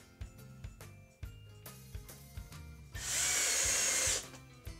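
Power drill driving screws into a wall mount for a sound absorber panel, a loud steady whir of about one second standing out near the end, over quiet music or background tones.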